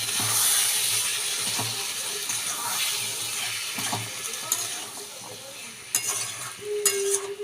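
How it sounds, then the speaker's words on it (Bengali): Boiled chickpeas frying in a pan with minced meat and a little potato for a keema chana dish, giving a steady close sizzle with scraping stirs and a few sharp utensil knocks near the end. "চানাটা দিয়ে আমি আরও ভালো করে কষিয়ে নেব"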